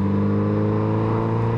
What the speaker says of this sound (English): I do at some point want to be able to pick up the exhaust note on this bike through the mic